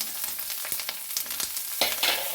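Onions, curry leaves and chillies frying in a pan for a banana stem stir fry, a close, steady sizzle with crackling spatters and short stirring scrapes, no voices.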